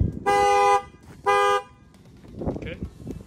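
A 2024 Chevrolet Silverado with its factory alarm triggered after someone bangs on the glass: two loud, close horn honks about a second apart, followed by quieter knocking and a voice.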